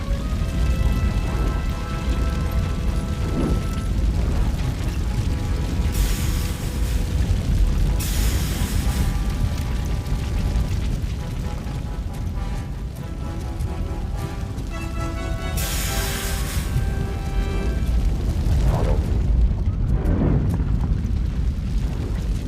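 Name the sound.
fire burning in video game RoboCop Rogue City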